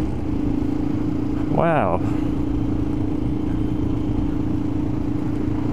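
A 1999 KTM Supermoto motorcycle engine runs while riding, a loud, steady, vibrating drone that holds throughout, with a brief spoken exclamation near the start.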